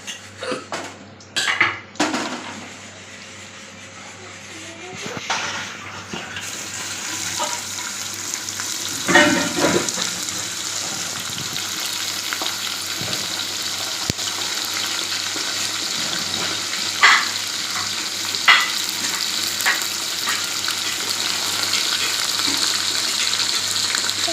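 Masala and onions frying and being stirred in a pan for home-style biryani: a continuous sizzle under repeated scraping and clanking of a spoon against the metal pan, loud and close, with no talking.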